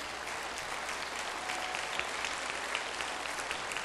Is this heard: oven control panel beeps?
no